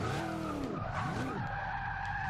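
Tires skid and squeal on a heavy supercharged Ford Country Squire wagon as its back end swings out around a corner in the racing game Forza Motorsport 6, with a wavering squeal over a loud engine drone.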